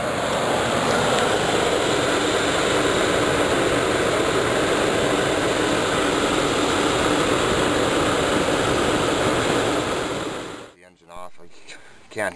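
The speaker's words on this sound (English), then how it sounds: "Can't hear anything over this heavy duty fan clutch I got in it." A small block Chevrolet engine runs at idle with a heavy duty fan clutch roaring loudly over it, a dense steady whoosh for about ten seconds before cutting off abruptly into near quiet.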